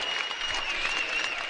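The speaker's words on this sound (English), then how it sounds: "this crowd stands to applaud the Phoenix" Basketball crowd at an Elon versus James Madison game standing to applaud, sustained clapping and cheering filling the arena, steady and loud throughout.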